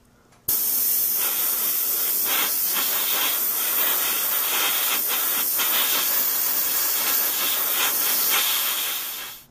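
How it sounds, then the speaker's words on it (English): A steady airbrush hiss sprays buff paint over an Airfix WWII RAF vehicle model kit, starting abruptly, holding constant for about nine seconds with faint stutters, then tapering off. "I'm going to use my airbrush and tint the entire model with a coat of buff color."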